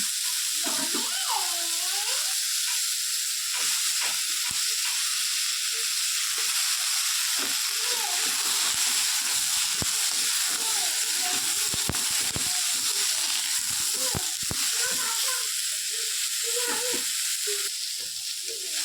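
Eggplant added to potatoes and beans frying in a wok, giving a continuous loud sizzle with bursts of crackling, scraping stirs and a few squeaky metallic scrapes, close up and without voices.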